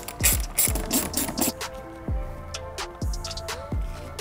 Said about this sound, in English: we just have a couple more screws to put in